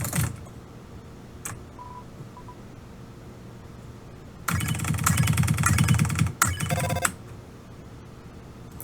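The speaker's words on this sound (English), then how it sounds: "Pick up the phone." Video game Undertale: a phone rings in a bright electronic burst lasting about two seconds over a quiet background, then cuts off briefly before a shorter final chime as it is picked up.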